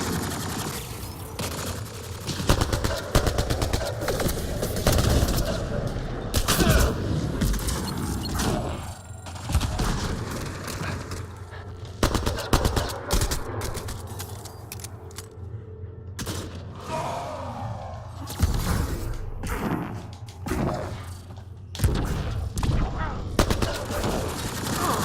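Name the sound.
sniper gunfire in video game Mass Effect Andromeda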